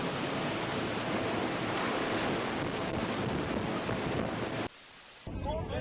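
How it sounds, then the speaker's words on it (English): A massive ocean wave crashes onto a shore in hurricane winds, a loud, dense, continuous roar of surf and wind buffeting the microphone before cutting to near silence. "a massive wave crashes onto the shore, disrupting the relative stillness of the streets"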